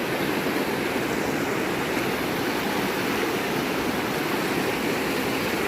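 A flowing river gives a dense, constant rush of water, loud and close, steady throughout with no voices.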